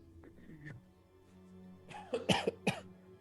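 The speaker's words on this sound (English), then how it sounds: "Sorry, it's my old man cough." A few harsh, throaty coughs burst out close to the mic after a moment of quiet room noise.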